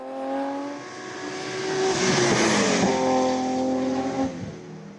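Former BMW race car at the Marchampt rally, engine revving hard as it approaches and passes, rising and falling in pitch with gear changes, loud and up close for five seconds.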